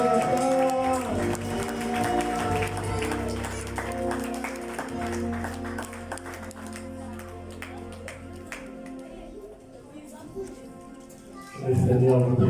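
A church congregation claps and cheers in praise, a broad wash of applause sustained under a steady musical backing and voices, swelling again loudly at the very end.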